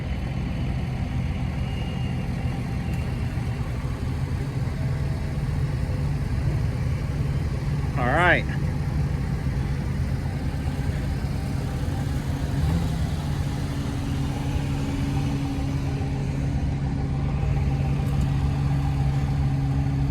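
A small Japanese mini truck engine idles steadily, slightly high, with a constant low drone throughout, a short high whine briefly rising over it midway.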